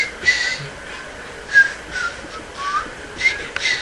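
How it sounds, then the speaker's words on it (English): A man whistling along with the nWo wrestling theme, short wavering whistled notes in brief bursts over a hissy background. "What if I just whistled along with the NWO theme for the rest of this video?"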